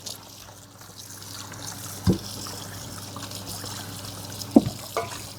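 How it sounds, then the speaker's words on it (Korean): Webfoot octopus is rinsed under running tap water, a soft continuous trickle and splash with a few louder clatters and knocks in the sink and no talking. "자, 이제 흐르는 물에 쭈꾸미를 깨끗하게 씻어 줄 거고요"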